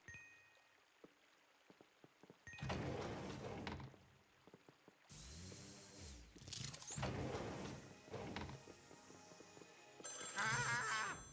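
A telephone rings in Luigi's Mansion 3, with bright repeated electronic ring bursts that come in separate loud blocks between quieter stretches and faint clicks.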